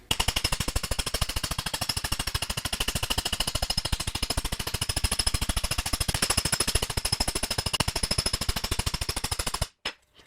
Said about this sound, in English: I'll use my hammer that has a lot of curve in one direction but's flat in the other